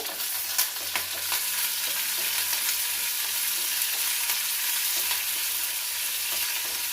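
Cumin seeds and urad dal fry in hot oil for mint chutney, giving a steady close sizzle with light stirring scrapes throughout and no talking.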